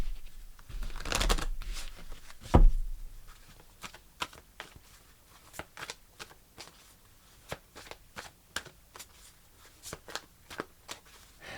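Tarot cards are shuffled and one is pulled, starting with a louder rustling burst and thump, then a run of soft, close, irregular card flicks and taps with no talking.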